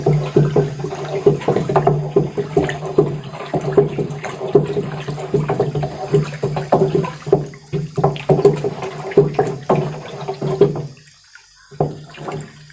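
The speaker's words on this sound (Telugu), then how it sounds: "ఈ వేస్ట్ డీకంపోజర్ ద్రావణం ఈ నీళ్ళలో పోసిన తర్వాత దీన్ని ఒకసారి బాగా కలపాలి" Waste decomposer solution is poured into a container of water and stirred while preparing VAM mycorrhiza, giving a run of close splashing and sloshing that stops briefly near the end before one last splash.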